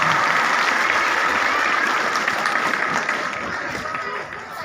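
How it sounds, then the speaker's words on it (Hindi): An audience claps loudly in welcome at a Hindi Day poetry recital, dense continuous applause that tapers slightly toward the end, with some crowd noise mixed in. "एक बार स्वागत करें बजाकर जोर से ताली।"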